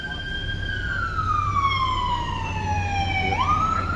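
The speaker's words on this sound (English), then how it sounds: "Oh, it's probably an ambulance coming here" An ambulance siren wails steadily in a slow descending tone, then swoops back up, mid-distance over low traffic rumble, with no talk.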